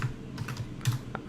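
A coupon code is typed on a computer keyboard in a short run of close, crisp keystrokes at an uneven pace, with no talking.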